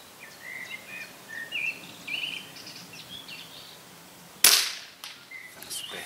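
A Weihrauch HW77 air rifle fired freestanding at 100 metres gives a single sharp crack with a short ring-off partway through, set against quiet outdoor ambience with faint bird calls.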